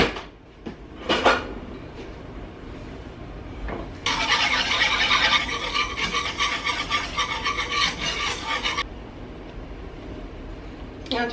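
Improvised whisk scraping and clattering against a kitchen bowl during home cooking, a dense rhythmic rasping burst lasting several seconds after a few brief knocks.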